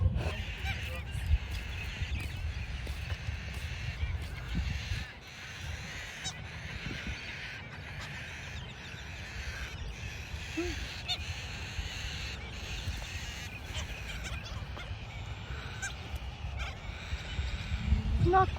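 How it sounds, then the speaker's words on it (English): A flock of cockatoos squawking as they feed, a steady stream of harsh, overlapping calls at a moderate distance, fairly quiet throughout with no speech. "Not quite chickens, but cockatoos having a feast."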